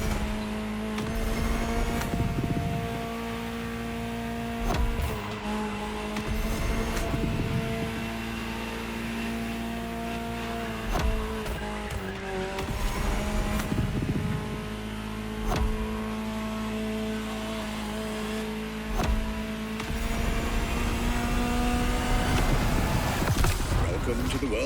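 A Ferrari supercar engine drones steadily while driving in The Crew Motorfest, holding a sustained tonal hum with several rising and falling revs and gear changes, loud and continuous throughout.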